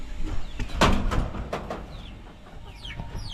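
A short metallic clank of a chicken cage door shutting, followed by faint chicken clucks and chirps in the background.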